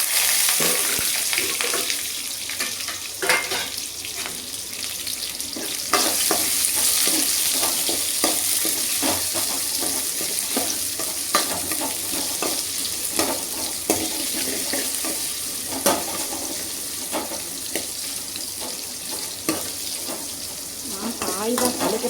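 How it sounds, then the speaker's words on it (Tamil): Mango pieces are stirred into hot oil with frying mustard seeds and curry leaves, giving a steady loud sizzle with scraping stirs throughout and no talking. "கடுகு பொரிஞ்சோடனே கருவேப்பிலை போட்டுட்டு கருவேப்பிலையும் பொரிஞ்சோடனே இப்போ மாங்காயில் போட்டு கலரிடுவோம்"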